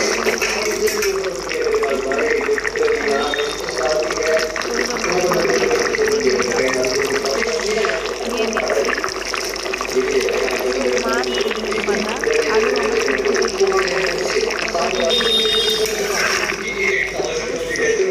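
Water poured into a simmering fish curry with cauliflower, a steady splashing wash running throughout with someone talking over it.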